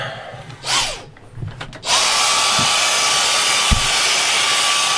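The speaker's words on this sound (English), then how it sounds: "Gonna vacuum this up." Vacuum cleaner switched on aboard a small classic catamaran to suck up drilling debris after lag bolt holes were re-drilled. After a few short knocks it starts with a loud, steady, close roar that runs to the end.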